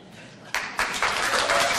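Applause breaks out in the audience at a town meeting, starting faintly, then rising in sudden bursts into steady, close clapping from several people.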